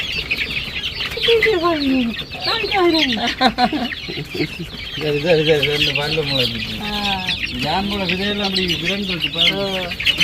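Chickens cluck and squawk busily around a Jaffna chicken area, several birds calling close by in overlapping bursts with rising and falling cackles, over a noisy outdoor background.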